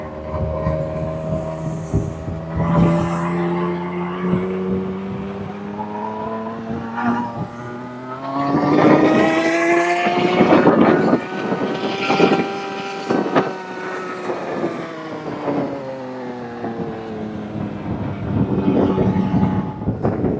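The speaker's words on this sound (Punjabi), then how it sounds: "ਸ਼ੁਰੂ ਹੋ ਗਈ ਆਪਣੀ ਕਿਸ਼ਤੀ" A boat engine runs through a boat ride on the water near Nadampur between Patiala and Sangrur, a continuous mid-pitched drone that rises and falls in pitch and loudness, with no talking over it.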